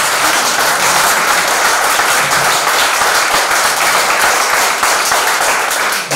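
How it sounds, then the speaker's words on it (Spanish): A crowd at a political party campaign event in Madrid gives loud applause for Manuel Andrino, a dense, continuous roar of clapping close by that holds steady for several seconds. "un aplauso muy fuerte para Manuel Andrino"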